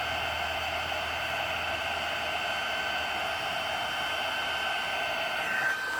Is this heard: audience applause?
no